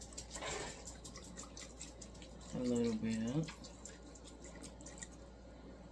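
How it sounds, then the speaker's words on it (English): Chicken broth pours into a crockpot over pork chops with a short, soft liquid gurgle amid low background noise, while a person speaks quietly. "I'm just going to pour it until it covers the pork chops"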